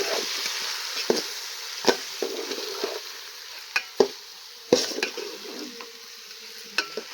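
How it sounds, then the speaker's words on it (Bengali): Washed rice is stirred in a pan for vegetable khichuri, producing a soft sizzle under repeated sharp scrapes and clinks of a spoon against the pan at an irregular pace, close and without speech. "ধুয়ে রাখা চালটা দিয়ে দিলাম দিয়ে নাড়াচাড়া করবো"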